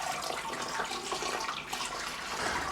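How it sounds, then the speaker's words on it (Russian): Hot water at about 75 degrees pours steadily into a home-brewing mash for sparging, a continuous broadband splashing stream close by with no talk. "Потихоньку начинаем промывку."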